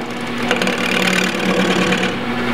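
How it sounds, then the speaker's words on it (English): A skew chisel's toe cuts a pommel on a spinning wood lathe, giving a steady, close whirring hum with a light scraping texture. "To cut in a pommel, I use the toe of my"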